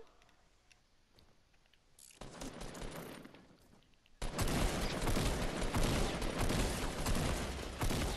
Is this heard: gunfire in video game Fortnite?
yes